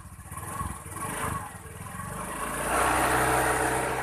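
Honda Beat motorcycle engine started and revved on the throttle, a near, loud rough drone that climbs in pitch and holds high toward the end.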